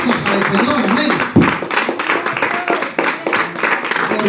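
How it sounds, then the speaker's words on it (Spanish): Dense, vigorous clapping fills a church as the congregation offers praise during a Spanish-language worship service. A voice speaks over the steady, energetic claps. "Una ofrenda de palmas vigorosa para el Señor."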